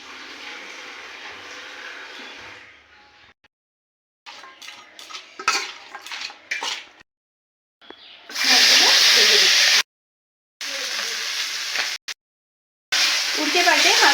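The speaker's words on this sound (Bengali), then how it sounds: "উল্টে পাল্টে মাছগুলো ভেজে নেব।" Tangra fish frying in mustard oil in a kadai gives bursts of loud sizzling and spattering, broken up by gaps, with pan clatter and stirring between them and no talk.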